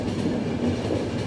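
Rolling steadily along the track in the game The Final Station, a train gives a continuous low rumble with soft rhythmic wheel clatter, close and even, heard alone without voices.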